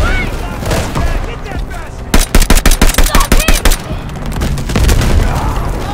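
Rapid machine-gun fire hits the player in the Vanguard video game, a loud, evenly spaced burst of about a dozen close shots in the middle, with game noise and some talk around it.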